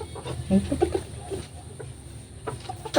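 Soft, scattered clucks from a labuyo (Philippine junglefowl) close by, a few short bursts in the first second and another near the end, with quiet gaps between.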